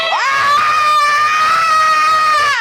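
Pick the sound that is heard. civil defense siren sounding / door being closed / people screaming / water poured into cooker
people screaming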